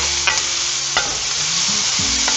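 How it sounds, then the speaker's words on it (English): Onions sweating with a pinch of salt in a pan for a beef stew give off a steady, close sizzle. Faint clinks of stirring come through at a few points, and no one talks. "I'm going to add a little bit of salt because that helps the onions sweat out a little bit"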